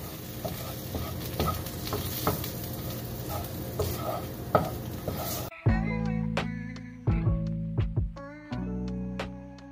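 Taco-seasoned food sizzles and fries in a pan, first as a steady crackle, then as a clearer frying hiss cut by repeated scraping stirs of a utensil.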